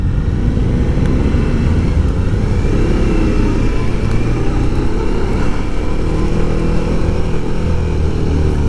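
A 2023 Suzuki V-Strom 1050DE motorcycle riding at steady speed, its engine drone loud and continuous, mixed with heavy wind rush throughout.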